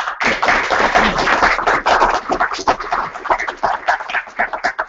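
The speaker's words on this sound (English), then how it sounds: "Please, thanks for your applause." Audience applause after a talk at an electric vehicle association branch meeting in Melbourne, dense sustained clapping from a crowd that gradually thins and tapers toward the end.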